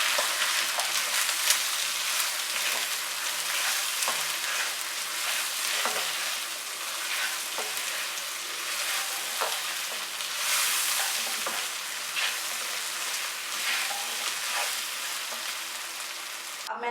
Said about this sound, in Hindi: इसको मज़ीद 2 मिनट के लिए भूनेंगे।